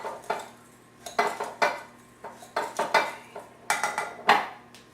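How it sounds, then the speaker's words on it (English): Buttered breadcrumbs stirred together in a dish, with a spoon clinking and scraping against it in quick irregular bursts, close and fairly loud, with no voices. "So we're going to stir this all together"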